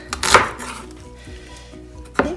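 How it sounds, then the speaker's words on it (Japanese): A knife strikes a cutting board a couple of times while chopping food into small pieces, sharp close knocks separated by a short quiet pause. "そしてこれを切っていくと細切れになります。"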